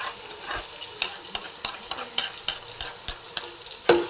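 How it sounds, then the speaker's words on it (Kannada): Egg rice fries in a pan under a light sizzle while a spatula scrapes and stirs in about ten sharp, evenly spaced strokes, close and clear, with no talking. "ನೀಟಾಗಿ ಫ್ರೈ ಮಾಡ್ಕೊಳ್ಳಿ"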